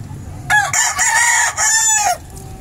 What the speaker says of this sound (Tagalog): Ang aking mga alagang manok, napakaingay.